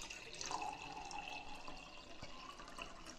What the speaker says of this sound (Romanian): Hai să-l umplem pe acesta cu mai multă apă.